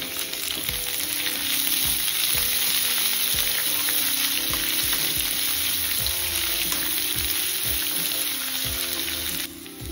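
Plenty of chopped onions fry in hot oil for a village-style bitter gourd fry, a loud, dense, steady sizzle with repeated scraping stirs in a regular rhythm, alone without speech.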